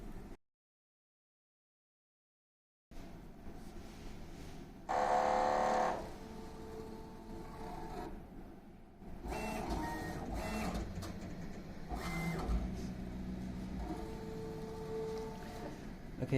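A Refinecolor phone case printer runs a nozzle check, starting after a silent gap with a mechanical hum, then a louder whirring carriage burst and later sustained motor whine with intermittent clicks and shifts, close and alone.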